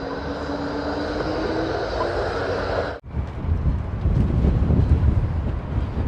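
Strong wind buffets a street in central Melbourne, a steady loud roar with heavy microphone rumble that briefly drops out and then returns even rougher.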